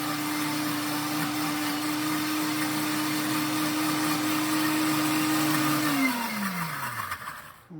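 A kitchen blender on its smoothie setting whirs Peruvian green sauce with a loud, steady motor whine for several seconds, then spins down and cuts out near the end.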